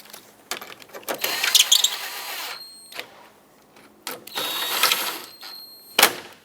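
A ratchet works bolts back into their threads while refitting the washer reservoir on a Mazda 6, with bursts of rapid clicking separated by pauses and a few sharp metallic clacks, close and alone.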